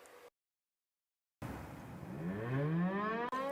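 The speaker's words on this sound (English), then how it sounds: "Civil Defense Corps in many cities across the United States continue to use networks of air raid sirens to alert citizens to danger" A Chicago civil defense air raid siren gives a brief blast, falls silent, then winds up loudly with a steadily rising, harmonic-rich wail that keeps climbing to the end, with no other sounds.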